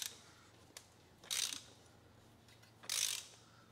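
Socket wrench ratcheting on the oil filter housing of a 2016-2023 Toyota Tacoma V6 3.5L, heard as two short bursts of clicking, close and fairly quiet, with a faint tap between them.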